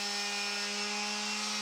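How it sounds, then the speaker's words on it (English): A palm sander runs on old piano keys from a 130-year-old piano under light pressure, giving a steady, close motor whine with strong even tones and a continuous rubbing hiss, unbroken throughout. "I switch over to the palm sander."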